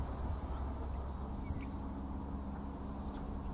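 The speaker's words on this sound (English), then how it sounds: "it's lovely hearing the crickets and the birds" Steady, continuous cricket chirping with a pulsing high trill, moderately close, over a low background hum; no talking.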